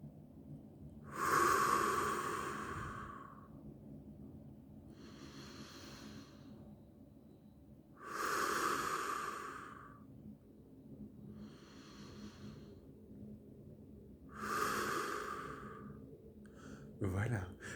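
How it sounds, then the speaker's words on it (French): Three slow, deep breaths taken together with a guide, each a long audible inhale-exhale swelling and fading, spaced evenly with quiet pauses between them, close and soft. "je vais nous inviter à respirer ensemble 3 fois"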